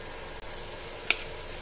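A tadka with kasuri methi for dal makhani sizzles steadily in a pan, a close continuous hiss with one faint clink of a utensil near the end.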